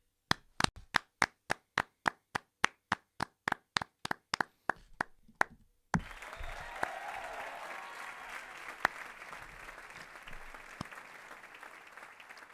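A single pair of hands claps in a steady rhythm, then a burst of continuous applause from several people follows, fairly faint.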